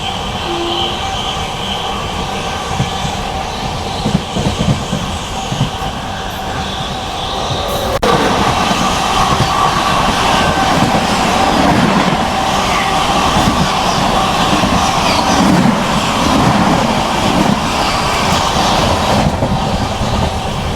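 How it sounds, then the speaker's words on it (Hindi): The Odisha Sampark Kranti Express rushes past on the opposite track during a crossing, a loud sustained roar of wheels and rattling coaches heard from inside a moving train, intensifying after a sharp onset partway through. "अभी सामने से आ रही है उड़ीसा संपर्क क्रांति एक्सप्रेस,"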